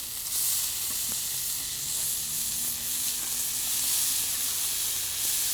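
A burger patty frying in a hot pan, a steady close sizzle and hiss with faint crackles running throughout, no voices.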